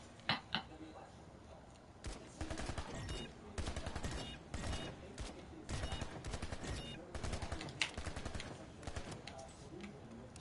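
Semi-automatic gunfire in the online shooter Planetside 2, a dense run of sharp repeated shots across the clip with irregular rhythm, loud and close, with game effects and some talk mixed in.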